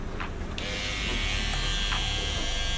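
An electric hair trimmer buzzes steadily and close up while cutting a hairline, a continuous loud motor whine with small shifts in pitch as the blade meets hair.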